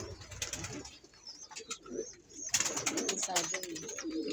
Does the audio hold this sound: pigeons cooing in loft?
yes